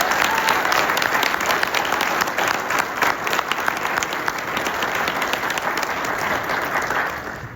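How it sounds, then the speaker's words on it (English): A crowd at a sheriff's office awards and promotions ceremony gives sustained, dense applause for correction professionals, loud and even from start to finish before easing slightly at the end. "A round of applause for our correction professionals."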